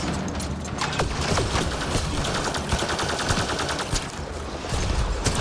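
An overheat-type weapon in the video game Mass Effect Andromeda fires in rapid bursts, a dense stream of sharp crackling shots close up and loud, continuing for several seconds without talk.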